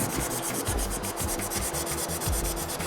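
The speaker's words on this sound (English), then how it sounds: "I like to take my time sanding because I don't want to sand too much" A circular sanding block rubbing back and forth over a Baja fender being fitted to a 2007–2020 Toyota Tundra, giving a close, loud, continuous rasping hiss with an even stroke rhythm and no talk.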